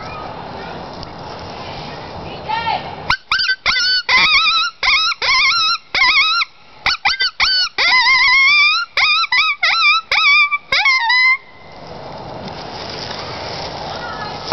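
A predator call fitted with a Yeller Dog Thunder Dog acrylic tone board and reed blows a rapid series of loud, sharp yelping cries, mimicking a dog's ki-yi distress call in choppy bursts, with quiet room noise before and after.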